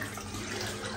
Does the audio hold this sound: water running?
yes